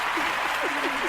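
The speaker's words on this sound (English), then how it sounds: "Let me give you a round of applause or sound effects." A short burst of canned applause played as a sound effect on a radio talk show, dense steady clapping with a voice speaking faintly over it.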